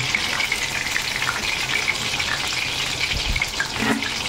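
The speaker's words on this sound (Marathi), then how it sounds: "ह्या पद्धतीने आपण सगळे सोया तळून डीप फ्राय करून घेणार आहोत" Soya chunks deep fry in hot oil, a dense, even hiss of bubbling that stays steady and close throughout, with a small knock of a utensil near the end.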